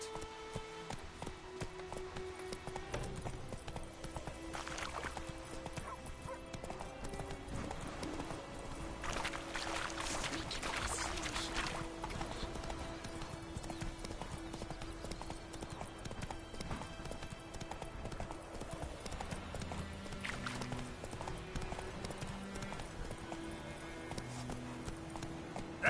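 Roach the horse gallops in The Witcher 3 video game, a steady rapid clip-clop of hooves running nonstop at moderate volume beneath ambient game sound.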